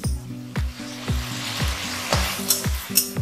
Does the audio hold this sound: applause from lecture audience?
no